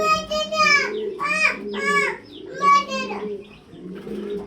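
Imported fancy pigeons at a pigeon farm coo in a series of close, warbling calls, several overlapping phrases in quick succession.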